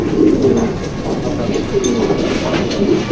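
Pigeons coo in a loft, several soft repeated throaty calls over a low background rumble, near and fairly loud.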